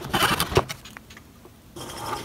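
Hand-sawing a wooden piece for a crank organ, cutting clearance for the bellows drive rods: a few quick rasping strokes up close, a short quieter pause, then the scraping cut resumes.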